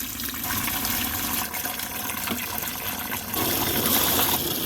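Water gushes steadily while a car is washed with SimpleWax Suds shampoo, a continuous close hiss that swells louder near the end, with no talking.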